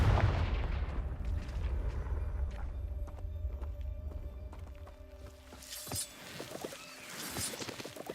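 The Confringo fire spell cast in the game Hogwarts Legacy, giving a heavy booming blast with a rumbling low roar that fades into crackling debris and scattered sharp impacts, loud and close without speech.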